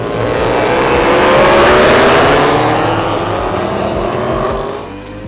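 Racing vehicles roar past on a track, a loud continuous engine drone with rising and falling pitch as they sweep by, close and dense, fading slightly at the end.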